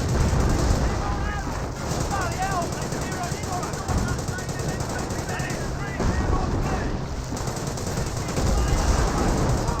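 Dense, continuous battle noise from Company of Heroes 1: rapid machine-gun bursts and scattered rifle shots stacked together, steady and loud throughout, with a commentator's voice running over the top.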